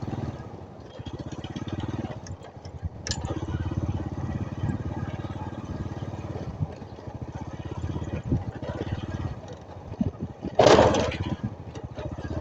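Small single-cylinder engine of a two-wheel tractor chugs steadily nearby in rural southern Laos with a rough, rhythmic putter, interrupted by a few sharp clanks.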